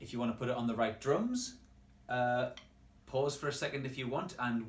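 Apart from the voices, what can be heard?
No everyday noise stands out behind the speech.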